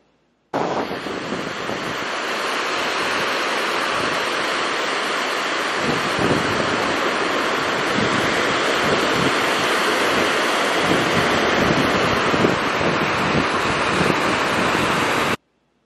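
Ocean surf breaking on an Oregon Coast beach, a steady loud roar of waves mixed with heavy wind buffeting the microphone throughout, with no talk.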